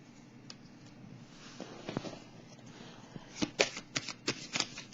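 Tarot cards are shuffled and handled up close, building into a run of quick crisp riffles and flicks toward the end over a soft background.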